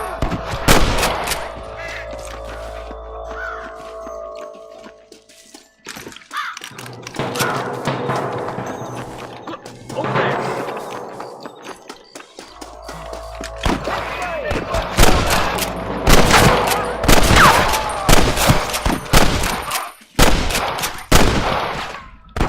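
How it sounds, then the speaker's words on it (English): Gunfire rings out in the Red Dead Redemption video game, with loud scattered shots and bursts, some rapid and overlapping, mixed with game music and voices. "I can hear more gunshots."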